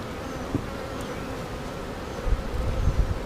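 Honeybees buzzing around an open, very strong hive during a mid-June inspection, a dense steady hum close by, with some handling bumps and thuds toward the end.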